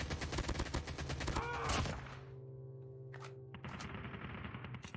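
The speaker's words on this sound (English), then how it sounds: "I'm trying to get to all the gunshots" Rapid video game gunfire rattles in a fast burst, cuts off into a low hum, then more shots resume toward the end.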